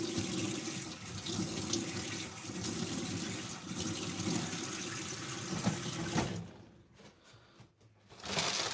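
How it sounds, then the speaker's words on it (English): Water runs from a sink tap to wet something, a steady broadband rush that fills most of the clip, then briefly drops away and returns at the end. "let me wet it under the sink"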